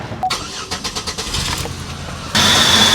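Buick LeSabre with a misfire: a cranking starter's rapid pulsing chugs, then the engine catches and settles into a loud steady idle, close up.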